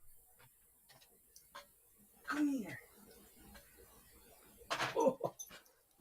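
Tilly, a puppy, lets out a couple of short whimpers and squeaky yelps that stand out against a quiet room with faint ticking, and people talk nearby.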